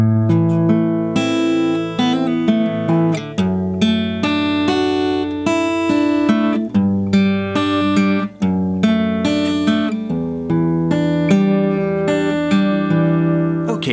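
Guitar playing the chorus of a song slowly, a steady run of plucked and strummed chords with clear ringing notes, close and fairly loud, with no voice.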